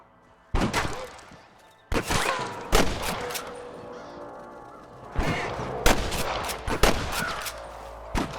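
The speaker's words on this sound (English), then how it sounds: "I can hear more gunshots." Gunfire in the Western video game Red Dead Redemption, several loud sharp bangs in irregular bursts, some spaced apart and some quick pairs, with game voices shouting between them.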